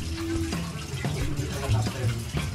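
Tap water runs steadily into a kitchen sink while hands are washed after cutting green chillies, a continuous splashing flow with a few clatters and a voice speaking over it.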